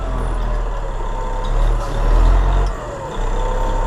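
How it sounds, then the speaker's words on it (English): A big, heavy truck is maneuvered through a tight turn beside a steep cliff, its diesel engine droning steadily close by and swelling louder midway before easing back. "How to turn a fat truck, a giant of a thing."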